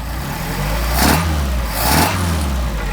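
A Mercedes 190SL engine with Solex carburetors blips twice from idle, each rev rising sharply then settling back to a low, even idle, close and loud, with no popping or spitting.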